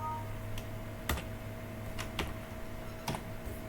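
Sparse computer keyboard key presses, a few sharp isolated clicks spaced about a second apart over a steady low hum, ending in a firm Enter press; no one talks.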